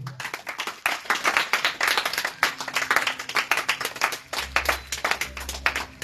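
A church congregation claps and applauds in a dense, continuous burst of many hands lasting several seconds, fairly close, with no voices standing out above it.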